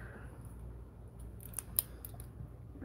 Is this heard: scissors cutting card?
yes